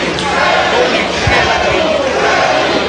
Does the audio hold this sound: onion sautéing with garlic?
no